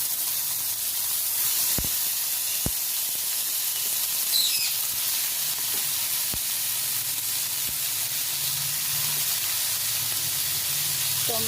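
Chopped tomatoes hit a hot pan with fennel seeds over lowered gas while cooking a chutney, giving a steady, even sizzling hiss throughout with a few faint clicks and taps of utensils.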